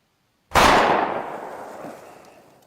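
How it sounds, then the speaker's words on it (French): A single sharp gunshot cracks after a moment of silence, loud and close, then rings out in a long fading echo. "C'était quoi ces coups de feu?"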